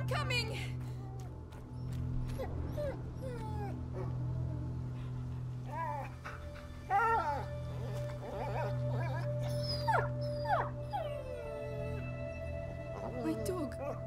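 A wounded dog in the game A Plague Tale: Innocence whimpers, yelps and lets out thin drawn-out howling cries in repeated bursts, close and fairly loud over a low steady background drone.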